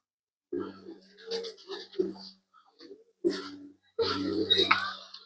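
Soft pigeon coos come in short bursts, close by at a bird park, mixed with a person talking intermittently.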